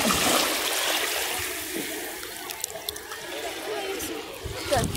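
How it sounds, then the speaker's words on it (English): Water runs and splashes close by as sand is rinsed off a finger at Blackpool beach, a steady gushing rush that tapers into trickles, with faint voices behind. "Let me go rinse it."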